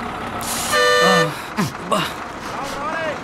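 A bus horn honks as the bus pulls away, a sustained toot followed by shorter blasts, with people talking close by.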